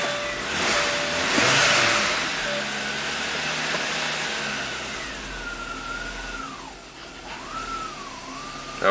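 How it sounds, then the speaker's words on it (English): An electric cooling fan switches on in an idling 1991 Audi 200 Quattro, a broad steady whir rising over the engine's low hum and lingering close and fairly loud, with faint tonal whines drifting through. "I heard the fan kick on."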